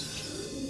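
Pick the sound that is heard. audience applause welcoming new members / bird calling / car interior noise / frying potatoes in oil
bird calling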